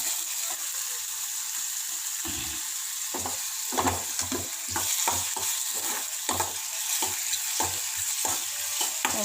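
Onion, ginger and garlic fry on a slow flame while being stirred: a soft, steady sizzle runs throughout, broken by repeated scraping strokes of a spoon in the pan.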